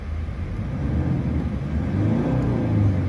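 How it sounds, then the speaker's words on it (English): 2014 Toyota Hilux engine revved briefly while parked, a steady close mid-low rumble that swells and climbs slightly in pitch over three seconds, no talking. "Give the car a quick rev."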